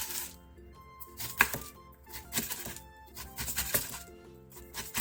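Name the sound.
knife chopping aged kimchi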